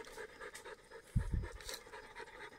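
A dog pants quietly outdoors, soft rhythmic breaths with a couple of brief louder low thumps partway through.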